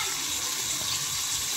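Pomfret fish frying in a small pan of hot oil gives a steady, fairly loud sizzling hiss that holds without a break.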